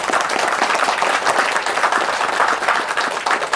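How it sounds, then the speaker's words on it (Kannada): An audience at the poster release and first-look unveiling of the Kannada film Ranaksha claps continuously, a loud, full crowd applause with slight swells, filling the whole moment without pause. "ನೀವು ನೋಡಿದ್ರಿ ಫಸ್ಟ್ ಲುಕ್, ಹೇಗನ್ನಿಸ್ತು ಅಂತ ನಿಮ್ ಚಪ್ಪಾಳೆ ಮೂಲಕ ಕೊಟ್ರೆ ನಮಗೊಂದು ಖುಷಿ ಆಗುತ್ತೆ."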